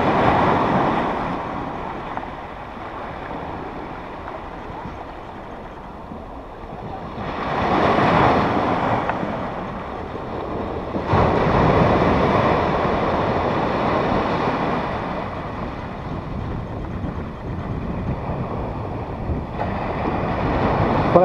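Ocean surf at Praia da Armação beach in Florianópolis rolls in with broad washing surges, heavily mixed with loud wind buffeting the microphone throughout.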